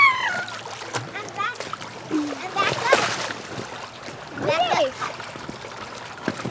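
A child jumps into water, making a couple of short splashing bursts in the middle and later part, with people talking and calling out around the splashes.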